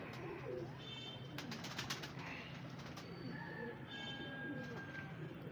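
Pigeons coo softly and repeatedly in a quiet setting, faint and nearby, with brief rustles and other small sounds between the calls.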